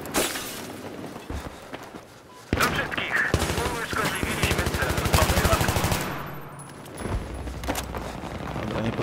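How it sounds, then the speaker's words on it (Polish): Automatic and shotgun gunfire in the Battlefield 3 multiplayer map Operation Metro, with dense rapid bursts that grow loud and close after a quieter opening stretch, a brief lull near the six-second mark, then firing resuming. "słyszałem też jeszcze jakieś strzały z shotguna"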